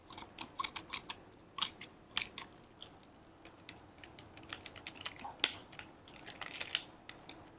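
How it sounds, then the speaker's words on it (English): Scissors snip the roots of a succulent plant in a quiet series of small, crisp cuts, close up and uneven in rhythm, clustered more densely at the start and the end. "So I am going to trim the roots a little bit."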